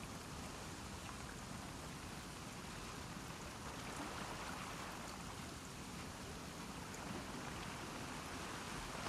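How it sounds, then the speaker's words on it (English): Steady, even rain falls throughout a scene in the video game The Last of Us Part II, a dense continuous hiss with no voices over it. "Let's get out of the rain."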